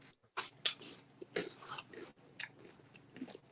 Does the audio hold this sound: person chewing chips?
yes